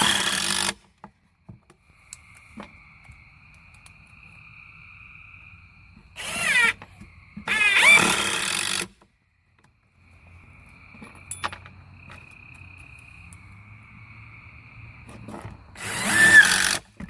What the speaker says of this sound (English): so that we can just go ahead and shoot us some screws in now